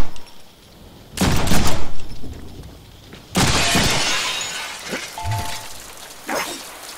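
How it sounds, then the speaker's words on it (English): Window glass shot out and shattering in a Deadpool video game, with two loud crashing bursts of breaking glass and scattered debris, the second burst longer and trailing into tinkling fragments. "I'll shoot out the window!"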